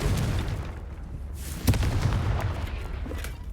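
A Confringo blasting curse in Hogwarts Legacy, producing a sharp, close blast that leaves a rumbling low boom under a steady background roar.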